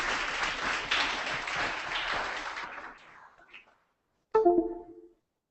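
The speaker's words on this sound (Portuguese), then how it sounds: "Palmas para ela de novo" Audience at a photojournalism workshop applauds a presenter, a dense burst of clapping lasting about three seconds before fading out, followed after a short pause by a brief voice.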